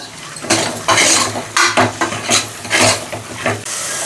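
Field beans (avarekalu) being stirred and fried in oil in a pan, with repeated clattering scrapes of a spoon against the metal pan and a faint sizzle underneath, close and fairly loud.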